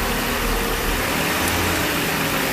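A 1995 Mercedes S600 engine idles with its mass airflow sensor disconnected, a steady close rumbling hum with no voices.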